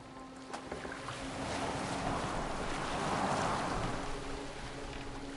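Boat sailing across open water in Assassin's Creed Valhalla: a steady rushing wash of water and wind against the hull, swelling gently toward the middle, close and continuous with no speech.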